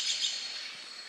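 A wild bird calls near a riverside cave, a few quick high chirps early on, then a faint steady twitter over outdoor hiss.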